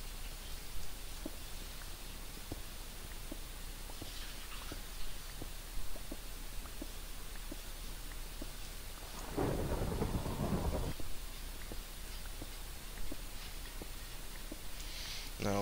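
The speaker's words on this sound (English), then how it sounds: "Ooh, and we have rain." Rain and thunder in the Minecraft video game, a soft steady rain hiss with one loud rolling thunder rumble midway, under faint periodic game clicks.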